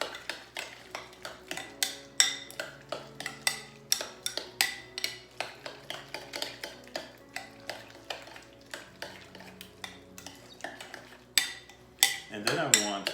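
A spoon mixes ingredients together in a bowl with a rapid, regular run of clinking scrapes, close and crisp, ending in a brief rougher burst.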